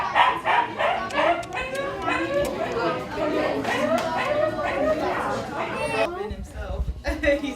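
Several dogs bark and yip in quick repeated bursts, close and lively, mixed with excited chatter from people nearby.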